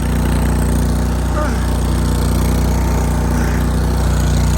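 A tractor engine runs loud and close with a steady low mechanical drone and heavy exhaust rumble, chugging without pause throughout the stretch.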